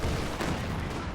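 A Pershing tank fires in a multiplayer strategy video game, heard as a loud, dense cannon blast with a rumbling boom that fills the short moment.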